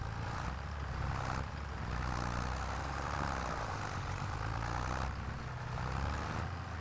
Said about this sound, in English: Try and drift the tractor around.